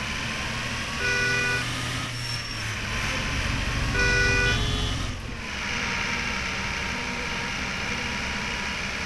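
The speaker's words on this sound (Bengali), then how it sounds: "এই যে হুইল করলে পরে তোমাদের দুটো হর্নের অপশন থাকবে।" A bus horn in an Indian traffic driving video game sounds two short, bright honks about three seconds apart over a steady engine drone.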